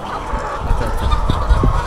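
A crowd of chickens on a poultry farm housing about 900 birds produces a dense, close chorus of clucks and squawks, loud and continuous.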